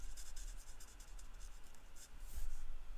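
Colouring tool strokes blending a pale shade over a dark one, a faint, quick run of soft scratchy rubs repeating across a few seconds, quiet and close with no voices.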